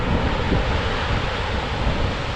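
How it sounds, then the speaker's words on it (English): Large sea waves break and wash continuously along the Durham coast at high tide, a steady loud roar of surf mixed with wind buffeting the microphone. "the tide's too high and the waves are reasonably large"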